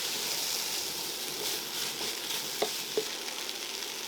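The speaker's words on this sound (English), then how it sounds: "Stir everything through and then add the cauliflower, and then make sure to coat all of the cauliflower with the korma paste." Cauliflower stirred into korma paste in a hot pan, a steady close sizzle and fry with a couple of soft spoon knocks near the end, no talk.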